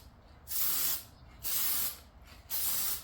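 Three bursts of spray hiss from a trigger bottle of cleaner on a car interior, each about half a second long and evenly spaced, close and fairly loud over a quiet background.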